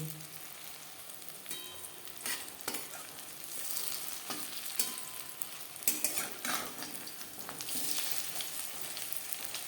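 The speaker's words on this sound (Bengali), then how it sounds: "একটা সাইড ভাজা হয়ে গেলে অপর সাইডটা উল্টে দেবো" Egg pakoras fry in a pan of oil, a constant crackling sizzle close by, broken by several sharp clinks and scrapes as the fritters are turned over, with no speech.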